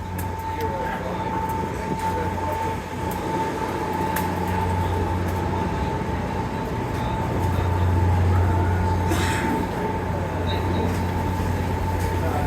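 Inside Penn Station, the New York City train station, a constant low rumble of trains and rail machinery fills the hall alongside a steady high tone, with distant crowd murmur throughout.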